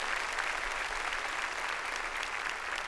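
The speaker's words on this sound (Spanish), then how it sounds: "démosle un aplauso al Señor, hermanos" A church congregation applauds the Lord during an evening service, a dense, sustained wash of clapping from many hands that stays loud and even throughout.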